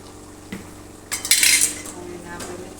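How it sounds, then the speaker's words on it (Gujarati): Spices such as turmeric, red chili and coriander-cumin powder stirred and mixed in a cooking pot: a few sharp metal clinks, then a longer scraping stir of utensil against pot, and a final clink. "હવે આપણે મિક્સ કરીને હલાવીને"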